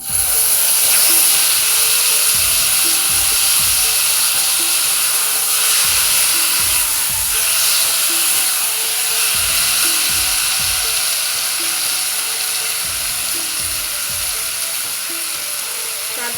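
Taro greens go into hot oil and fry, giving a loud continuous hiss and sizzle with rhythmic clicking utensil or mechanical noises underneath.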